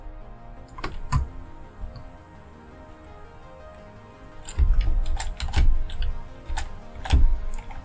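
Computer keyboard keys click in sparse, irregular bursts while text is edited, faint and close, with a quiet stretch before a livelier cluster of keystrokes and no voices.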